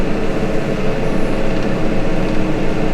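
A Case Maxxum 150 tractor revs with its PTO engaged while spreading dung, a loud, steady diesel roar with heavy low-end rumble throughout.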